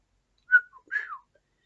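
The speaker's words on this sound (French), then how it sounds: "c'est rare que je me mets à siffler" A person whistles a short, quiet phrase: one bright note, a brief lower blip, then a longer sliding note that falls away, with near silence before and after.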